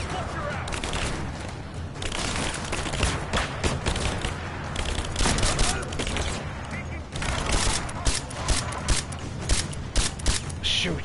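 Dense video game gunfire from Rise of the Tomb Raider, aimed at an explosive barrel. Rapid, loud shots and booms overlap continuously for about eleven seconds under busy game noise.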